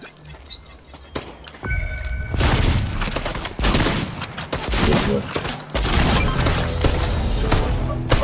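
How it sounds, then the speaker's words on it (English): Rapid bursts of gunfire in a Fortnite trios match, loud and dense, with booming impacts and crashes layered over the shooting for most of the stretch. "I see him trying to shoot me."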